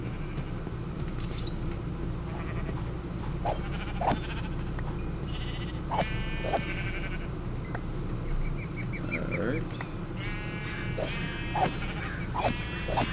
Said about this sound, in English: That's a gray sheep.